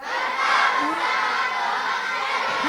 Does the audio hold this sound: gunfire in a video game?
no